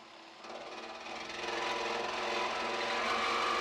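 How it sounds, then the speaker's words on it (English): A jigsaw fitted with a medium-tooth metal cutting blade saws through sheet metal, with a steady buzzing, rasping drone that grows slightly louder as the cut continues, close and without talk. "I'm going to use my jigsaw with a metal cutting blade that has a medium tooth"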